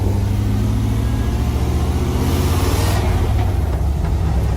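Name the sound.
five-speed Iroc Camaro engine while driving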